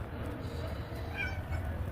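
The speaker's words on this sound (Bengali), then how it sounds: "বিড়াল বাইরে থেকে খালি ম্যাও ম্যাও ম্যাও ম্যাও করতে আছে" A cat meowing from outside at night, a single faint short meow heard at a distance over a low background hum.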